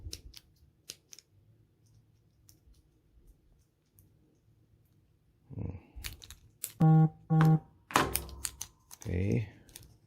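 Knipex circlip snap ring pliers cutting, heard as a few close, crisp snips and crunching clicks in the second half after a mostly quiet stretch with faint tapping.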